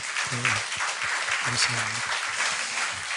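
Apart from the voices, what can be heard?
applause from church congregation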